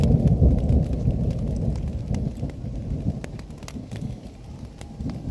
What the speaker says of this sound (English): the storms have started